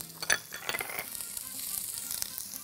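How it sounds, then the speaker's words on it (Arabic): Onion and peppers frying in a little oil in a pan, a steady close sizzle with brief stirring scrapes and a louder burst near the start, no talking. "اللي هنعمله دلوقتي ان احنا هننزل الثلاث حاجات دي في شويه زيت، مش هزود زيت"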